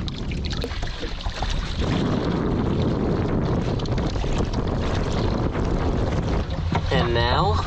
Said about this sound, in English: So we're gonna try to motor sail right now, AKA pedal paddle sail